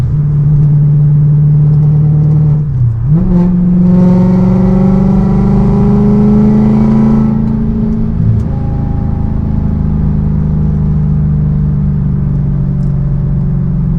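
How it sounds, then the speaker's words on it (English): A car engine fitted with a Jackal Motorsports tune and a VF Engineering supercharger drones loudly from inside the cabin. It rises in pitch as the car accelerates with a supercharger whine, then settles back as the driver lifts off the throttle. "So I just let go of the gas right there. Accelerating just a little bit."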